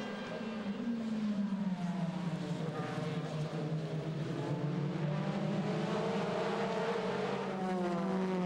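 DTM touring race cars from the 2006 season roar past on track, a dense engine howl with pitch sweeping down and back up as several cars pass in succession.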